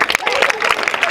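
Schoolchildren at a Children's Day celebration clap together in a short, lively burst of applause, many hands patting quickly and unevenly for about a second.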